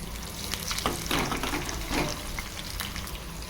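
Green chillies, dry chillies and curry leaves fry in hot oil with cumin and mustard seeds for a Telangana-style pachi pulusu, giving a steady moderate sizzle with a few louder bursts of spattering near the start.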